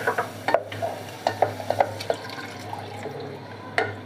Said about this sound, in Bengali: দুধ দিয়ে আমি ভালো করে নেড়ে দিচ্ছি।